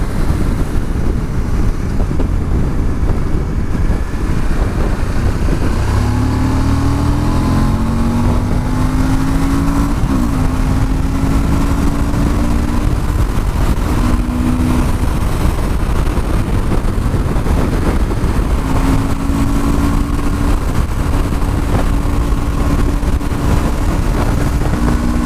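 A Suzuki V-Strom motorcycle engine runs and climbs through a few revs, its low tone rising and falling in steps, with steady wind rush over the microphone throughout.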